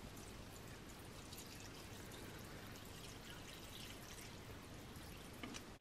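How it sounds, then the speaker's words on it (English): Water poured from a container into the tray of a Haidilao self-heating spicy beef hot pot, filling it to the fill line, a steady continuous splashing pour that runs close and unbroken for several seconds with no talking. "we're simply just going to add some water up until the little fill line"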